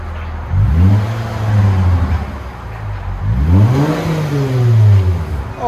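A 2018 Lexus GS 350 F Sport with a 3.5L V6 and dual exhaust, muffler deleted, revs twice in loud close bursts, each climbing and falling back to idle, with no talk over it.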